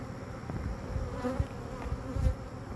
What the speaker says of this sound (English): there's just so many bees in here